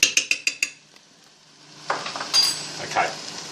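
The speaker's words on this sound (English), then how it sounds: "going to stir that up just a little bit. Stir all those condiments through this mix of veggies" Curry powder and condiments are stirred into a pan of mixed vegetables, first as a quick run of five sharp utensil clinks against the pan, then softer scraping and light sizzling from the vegetables.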